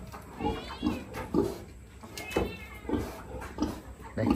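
A farm cat meows repeatedly at close range, a steady run of about eight short calls spaced roughly half a second apart, with no talk over them.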